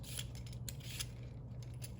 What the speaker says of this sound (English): I'm gonna peel it.